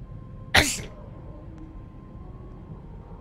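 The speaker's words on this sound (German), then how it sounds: "Dieses blöde Niesen, ey" A single loud, sharp sneeze in the horror video game The Evil Within, a sudden burst that quickly fades into quiet ambient background.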